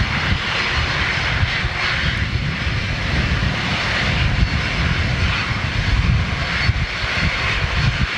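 Jet engines of a Cathay Pacific Airbus A350 at Manchester Airport, a loud, steady broadband roar that holds close and constant throughout, with no talking.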